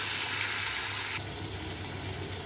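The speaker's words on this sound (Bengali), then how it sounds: "মাংসগুলো ভাজা এবং কষানো মোটামুটি শেষ।" Pieces of desi chicken meat frying and being browned in a pan over medium heat, a dense continuous close sizzle with faint stirring, no voices.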